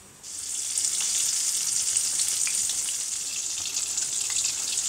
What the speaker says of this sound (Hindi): यहाँ कढ़ाई में ऑयल गर्म हो रहा है इसमें इस लेग पीस को डाल देंगे